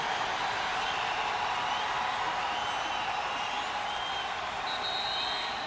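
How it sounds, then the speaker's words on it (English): A stadium crowd roars at a Navy versus Hawaii college football game, a broad, distant wash of voices that holds steady at low volume throughout. "Crowd roars."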